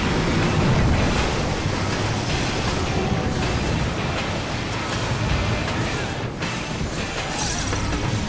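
Ocean surf rolls in Final Fantasy XIV, a broad, loud, continuous wash of waves with gusty wind-like rushing and occasional crashing swells, without any talk.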